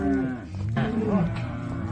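Cattle moo while being sorted down an alley at a calf sale day, a couple of deep, drawn-out lows close by in a working pen.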